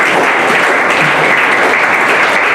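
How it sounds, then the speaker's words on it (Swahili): An audience claps for the instructors at the close of a training session, a loud, dense burst of applause that fills the whole stretch evenly, with no speech over it. "Naomba basi tuwapigie makofi mengi wakufunzi wetu"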